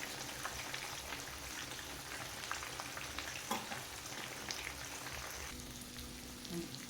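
An egg omelette with cha-om leaves sizzles steadily in hot oil in a Thai home kitchen, a dense crackling hiss with occasional sharper pops throughout.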